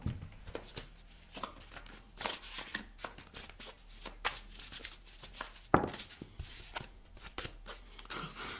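Tarot cards handled and laid out during a reading, with repeated close crisp flicks, slaps and papery shuffling at an irregular rhythm and no talking.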